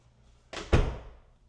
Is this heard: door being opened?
yes